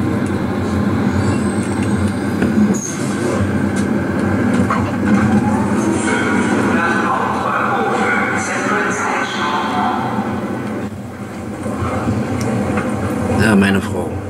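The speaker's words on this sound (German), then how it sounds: "So, wir haben jetzt Einfahrt in den Bahnhof Tierpark." A Berlin U-Bahn line 5 subway train entering Tierpark station, a loud continuous rumble with rail screeches and clatter heard from inside the car, easing slightly near the end.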